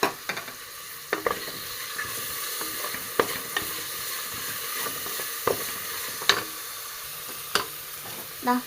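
Crushed small shallots and three or four green chilies frying in a pan for a quick special rice, with a steady sizzle and sharp spatula knocks and scrapes recurring every second or so.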